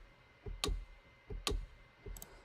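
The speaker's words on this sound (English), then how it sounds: "and this side stick sounds like this" A side stick drum sample in FL Studio plays three crisp, evenly spaced clicks, each short and fairly quiet with nothing else behind it.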